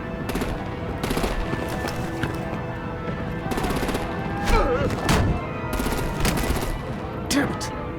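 Rapid bursts of automatic gunfire and heavy shots in the video game Batman: The Enemy Within, loud, repeated and rattling in close clusters, with voices shouting in between.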